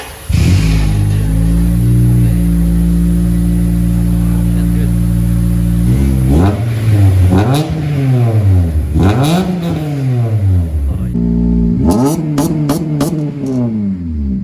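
A Honda FN2 Type R fitted with a new exhaust holds a steady, loud engine note, then gives several sharp revs that rise and fall in quick succession, VTEC crossovers sounding close up.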